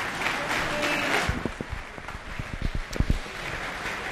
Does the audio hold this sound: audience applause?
yes